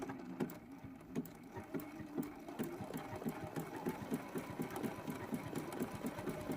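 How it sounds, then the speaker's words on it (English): A domestic sewing machine runs steadily on decorative stitch number 31, stitching fusible appliqué for a quilt block; a fast, even mechanical chatter of needle strokes continues throughout at close range. "I'm going to use a stitch that I've never used on my machine, and that's stitch number 31"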